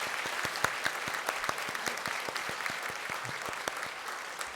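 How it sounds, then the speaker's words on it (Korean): A church congregation applauds during a Sunday worship service in Sejong, giving a steady patter of many hands with some sharper individual claps standing out, moderately loud and continuous. "우리 한번 큰 위로와 격려 박수"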